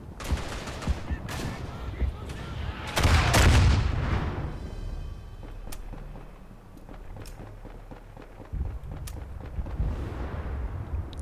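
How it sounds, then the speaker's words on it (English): Artillery strike from the World War I shooter Verdun, on the Picardie map with British Tommies: a loud burst of explosive blasts around the third second, with scattered gunfire cracks and rumbling battle noise before and after. "I don't think my artillery strike did anything"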